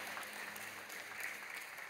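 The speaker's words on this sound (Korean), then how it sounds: "여러분께 박수로 환영하시지요." A Korean church congregation at Sunday worship claps in welcome, a soft, distant, even wash of applause that holds steady throughout.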